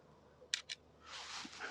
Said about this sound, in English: Shutter once again activated.